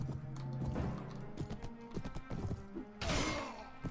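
Horse hooves clip-clopping in a Mount and Blade medieval combat game, a steady run of close thuds over continuous game noise, with a louder crash burst near the end.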